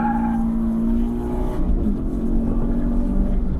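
A roughly 200-horsepower Scion FR-S race car on a road course at full throttle, a loud steady engine drone with a faint pitch shift partway through, heard close and alone.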